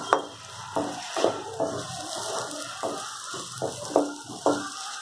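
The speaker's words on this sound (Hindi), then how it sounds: "प्याज डालकर हम इसको अच्छे से फ्राई कर लेंगे प्याज को।" Onions frying in a pan, with a steady close sizzle broken by regular scraping strokes of stirring, roughly two per second, and no talk.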